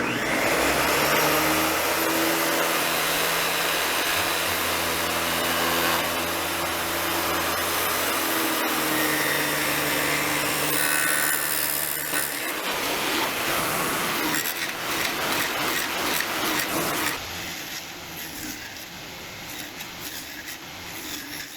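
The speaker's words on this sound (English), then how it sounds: "I'm going to use this crappy Craftsman table saw from the 80s with a dado blade in it" An old 1980s Craftsman table saw fitted with a poorly fitting dado blade cuts through wood, a loud steady motor whine with rising cutting roar that drops toward a lighter spin-down near the end; no one speaks.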